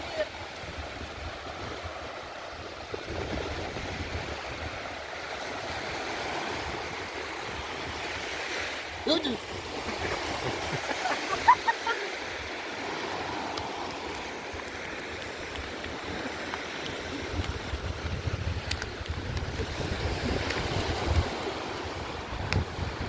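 Morning beach during a fishing outing, with a steady wash of waves and surf mixed with gusty wind rumbling on the microphone, fairly quiet and continuous with a few brief bumps.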